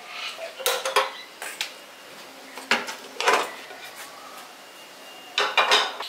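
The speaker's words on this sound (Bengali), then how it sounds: "এবার গ্যাসটা অন করে কড়াইটা বসিয়ে দিচ্ছি।" A metal wok (kadai) set down on a gas stove burner in a home kitchen, giving a few sharp metallic clanks and scrapes spread across several seconds, close by, with quiet pauses between.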